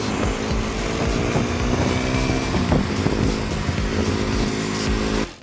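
A motorcycle engine runs steadily on a ride out of Pune toward Lonavala, a smooth, refined drone with harmonic layers held at an even, close, loud level throughout, dropping away only at the very end.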